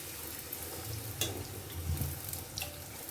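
Rava puris frying one at a time in hot oil give off a steady, close sizzling hiss with a faint low rumble beneath and a few brief bubbling bursts; no one speaks.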